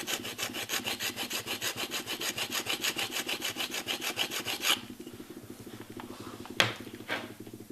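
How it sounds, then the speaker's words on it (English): A rough trigger stone rubs back and forth against a .58 caliber rifle trigger in quick, even rasping strokes, close and steady for about five seconds, followed by softer scattered scraping and a sharp click. "so now I'm honing it with the rougher trigger stone"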